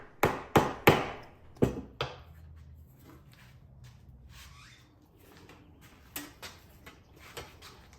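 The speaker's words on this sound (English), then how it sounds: "I could hammer with that lump hammer a little harder than I started with" Sharp metallic lump hammer taps on a vintage rip handsaw blade, a quick cluster of four or five strikes, a pause, then a few lighter taps spaced apart, close and ringing briefly.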